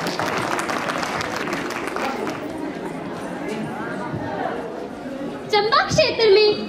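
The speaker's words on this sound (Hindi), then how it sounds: "एक बार जोरदार तालियां इन लड़कियों के लिए" Applause for a group of girls after a dance performance at a school annual function in Randoh, steady clapping from an audience with crowd chatter, ending in a few louder, sharper sounds near the close.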